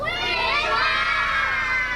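A crowd of children at a birthday party shouts loudly and together, a dense, sustained chorus of high voices close by.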